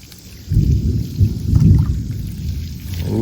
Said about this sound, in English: Ooh, it's that thundering back over there.